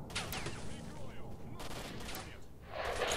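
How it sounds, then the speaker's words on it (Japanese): Bursts of gunfire in the shooter game S.T.A.L.K.E.R., sharp cracks and rattling volleys spread across the moment, loud and close against a noisy game backdrop. "そろそろ銃声も少なくなってきたけど"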